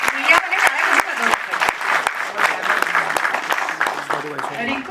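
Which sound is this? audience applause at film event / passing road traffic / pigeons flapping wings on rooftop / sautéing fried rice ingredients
audience applause at film event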